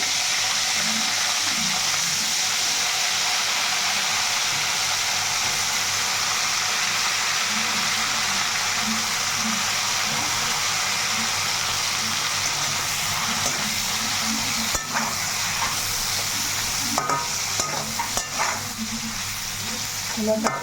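Dry fish frying in hot oil for a dry fish, brinjal and tomato curry, with a steady close sizzle throughout and a few louder crackles and pops near the end.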